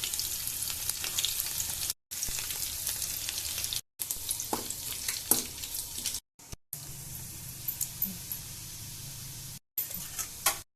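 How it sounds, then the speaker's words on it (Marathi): Garlic, curry leaves and cumin frying in hot oil for a mixed pawata and brinjal bhaji: a bright, steady close-up sizzle and crackle in several short takes separated by brief silent gaps. "पहिल्यांदा तेल टाकते, लसूण, कढीपत्ता टाकते, जिरं"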